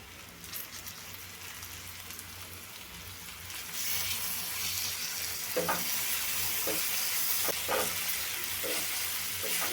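Onion and tomato roast in a pan for a dry matki sabzi, a soft continuous sizzle and crackle that grows louder partway through, with a few sharp spatula scrapes near the end.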